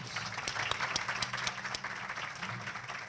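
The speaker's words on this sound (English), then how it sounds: "Let's give them all a round of applause." An audience at a college science building groundbreaking gives a round of applause, a steady patter of many hands clapping at moderate distance, fairly quiet and even throughout.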